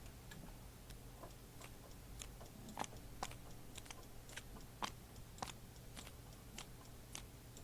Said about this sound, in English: I'm just removing all the ace cards from each of these decks.